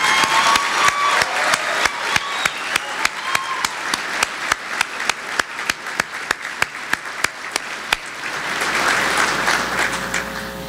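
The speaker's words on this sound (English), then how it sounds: "how about a round of applause for all the other Sailors of the Year" Audience applause for the Sailors of the Year at a Navy banquet, with a dense crowd clapping steadily and a few sharper, closer claps standing out through most of it before the sound thins toward the end.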